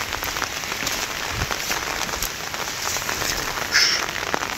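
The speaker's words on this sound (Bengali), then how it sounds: "প্রচন্ড ঝড় বৃষ্টি," Heavy rain pours steadily onto a papaya field during a storm, a dense continuous hiss of drops close by with scattered louder splashes throughout, no voices.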